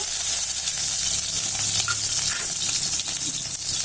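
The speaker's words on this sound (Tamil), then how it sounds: "இப்படியே எண்ணெயிலேயே நல்லா வெந்துடணும் நல்லா வதங்கி" Garlic fries in oil for a spicy chutney, a continuous bright hiss and sizzle up close with faint crackles, no speech.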